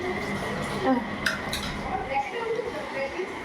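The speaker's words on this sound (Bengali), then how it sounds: "ওখানে বাসন পেয়ালাগুলো ধুচ্ছে" Dishes, pots and bowls being washed in a home kitchen, giving a few scattered clinks and knocks of crockery over a constant low background hum, with faint voices in the background.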